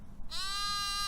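A single lamb's bleat rises and holds as one long, clear, close call after a brief quiet start, with faint rustling outdoor ambience underneath.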